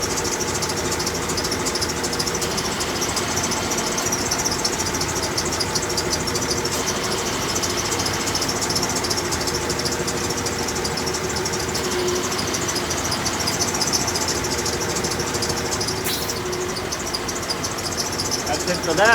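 A 1996 Ford F150 engine idles with its AC compressor running, giving a steady, continuous close-up hum and rattle that holds evenly throughout.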